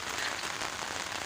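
Heavy rain falls on a village lane, a dense, steady hiss of drops hitting surfaces, even and continuous, with no voices.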